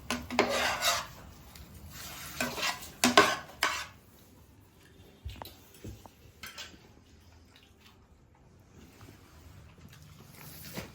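Homemade manchurian is stirred in a pan, with bursts of rasping scrapes and metallic clinks of a utensil against cookware, then quieter scattered taps and knocks near the close.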